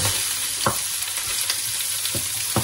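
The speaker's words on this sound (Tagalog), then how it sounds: "Medyo nagba-brown na siya. Ang aming pork belly. Halo pa dyan." Pork belly frying loudly in a pan for kimchi fried rice, a steady dense sizzle with occasional spatula knocks as it is stirred, close and continuous with no talking.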